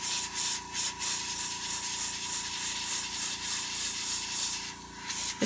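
An airbrush sprays paint onto model horse hooves, a steady airy hiss pulsing in short bursts over a constant low compressor hum.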